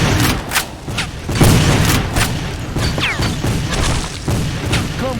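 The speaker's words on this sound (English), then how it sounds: "They're bringing up cannons." Cannon fire in the Civil War video game History Civil War: Secret Missions, a string of heavy booms and crashes scattered across a noisy battlefield mix, loud and close.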